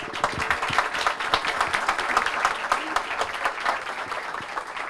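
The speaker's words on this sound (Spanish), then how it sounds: "un aplauso para las chicas" Audience applause after a talk at a software development conference, a steady dense patter of many hands clapping for about five seconds, close and fairly loud with no voices on top.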